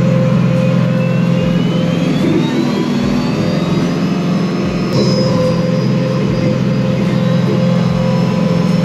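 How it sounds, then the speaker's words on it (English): A hydrostatic tractor engine runs loudly and steadily throughout, a dense droning roar with a constant low hum and no voices. "I'm in a hydrostatic right now, and you all know how loud that can be."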